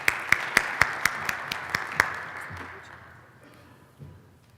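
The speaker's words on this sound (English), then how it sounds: "Give him a big round of applause," Audience applause for a CEO taking the stage at a 2014 International CES fitness-technology session, with sharp individual claps over a crowd wash that fades out over about three seconds, followed by a brief murmur.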